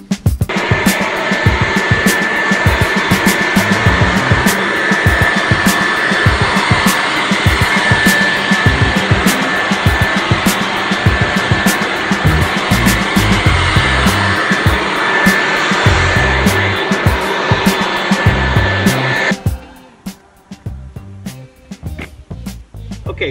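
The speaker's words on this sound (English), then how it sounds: "We've used the blower to kind of clean up a little bit of the debris on the driveway." A leaf blower clearing debris off a driveway, a loud, continuous whining rush held close for about nineteen seconds before cutting out abruptly, leaving faint rustling.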